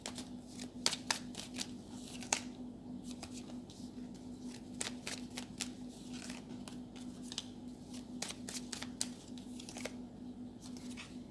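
Tarot cards shuffled and drawn by hand, giving a run of quick, crisp riffling snaps and flicks at a close, moderate level over a steady low hum, with no talk.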